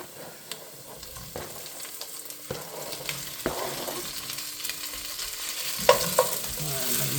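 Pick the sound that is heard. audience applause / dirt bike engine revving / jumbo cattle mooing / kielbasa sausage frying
kielbasa sausage frying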